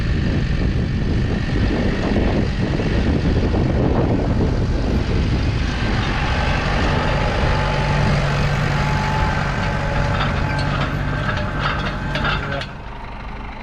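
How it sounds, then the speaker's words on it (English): Farm tractor pulling rollers across a wet field, a loud continuous diesel drone with rumbling low clatter that stays steady throughout and eases off slightly at the end. "the rollers are sort of breaking it down already"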